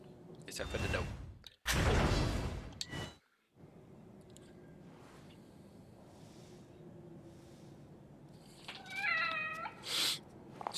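A cat meows a few times in the video game The Evil Within, fairly close, with a short high-pitched cry near the end, between bursts of background noise and a voice.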